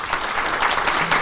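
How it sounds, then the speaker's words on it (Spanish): Audience at a criminal procedure code seminar opening applauding, a dense continuous burst of clapping from many hands, fairly loud and steady. "Fuertes aplausos para él, por favor."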